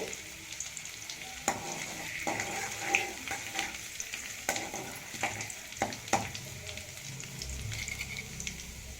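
Ginger and garlic sizzle in a pan while a spatula stirs them, with sharp scraping strokes at irregular intervals over a constant close frying hiss and no talking.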